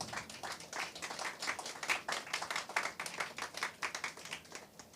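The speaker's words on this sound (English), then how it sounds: "So let's give a big round of applause" Scattered, distinct hand claps from a modest audience at an opening keynote for a women's conference, fairly faint, an uneven rhythm of individual claps with no talking.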